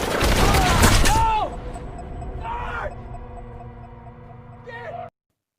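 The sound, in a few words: gunfire in a film scene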